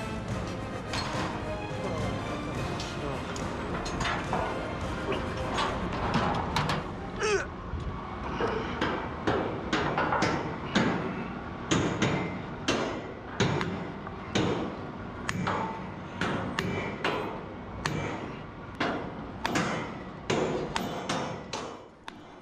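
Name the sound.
hammering pins into tower crane mast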